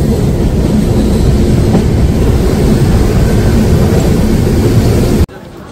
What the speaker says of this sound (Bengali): 10টা 1 বাজে ফারাক্কা স্টেশনে আমাদের ট্রেন ঢুকলো